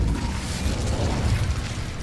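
Incendio fire spell cast in the Hogwarts Legacy video game: a steady rumbling whoosh of flame with a low booming roar, loud and continuous for about two seconds, no voices.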